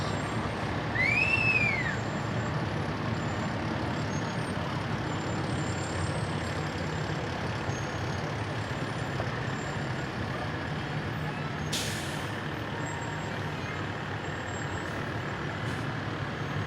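Fire company number 3's truck 46 rolls past in an outdoor parade with a steady, loud engine rumble, a short rising whoop near the start and a sudden air-brake hiss partway through.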